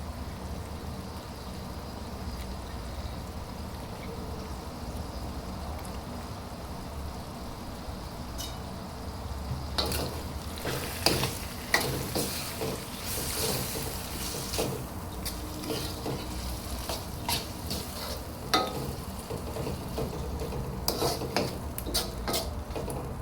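Chicken simmers in a pot with tomato paste while a spoon stirs it. Scraping and metallic clinks against the pot come in bursts over a low bubbling sizzle, growing busier in the second half.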